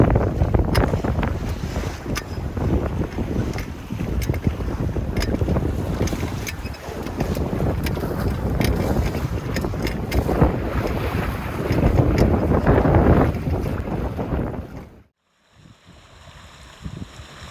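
A 15-foot sailboat moves through light wind on a coastal inlet under cloudy sky, with steady wind rush across the microphone and water washing along the hull, continuous and fairly loud before dropping away near the end.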